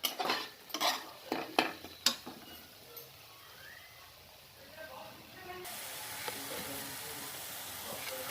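Turmeric, chili, salt and coriander powder fry over a low gas flame in a pan for paneer do pyaz, with several clinking spoon stirs at first, then a steady soft sizzle that grows louder.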